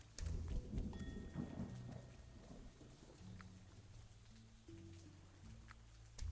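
Thunder from a lightning strike in the pirate video game Cleo: A Pirate's Tale, a soft rumbling boom at the start trailing off under patter of rain and faint game tones.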